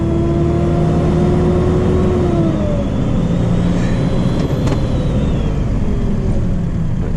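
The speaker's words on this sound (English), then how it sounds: "Braking lovely, going up and down the gears beautifully." A DAF LF truck drives and shifts gears, its engine droning loud and close with rising and falling pitch as it changes through the gears, and a brief hiss midway.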